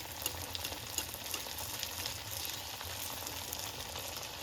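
Malpua batter fries in sunflower oil over a high flame, giving a dense, continuous crackling sizzle that stays even and close for the whole stretch, with no talking.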